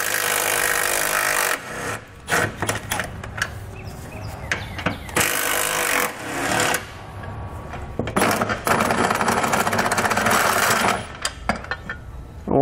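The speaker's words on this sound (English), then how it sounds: "we'll grab an 18 millimeter socket and pull the bolts out" An 18 mm socket on a power tool runs out the frame bolts for a Draw-Tite Max-Frame trailer hitch on a 2019 Nissan. Loud, close mechanical whirring and rattling bursts start and stop repeatedly, separated by short clanks and pauses.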